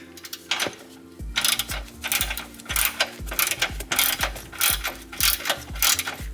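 Torque wrench tightening sway bar bolts to 81 foot-pounds on a GR86 during a Perrin sway bar install, heard up close as a rapid, even series of loud ratchet clicks in repeated bursts with no talking.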